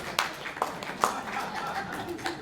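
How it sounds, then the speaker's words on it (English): A brief smattering of clapping from a small library audience at a poetry reading, a few scattered claps and light laughter that fade quickly. "Oh, you don't have to applaud."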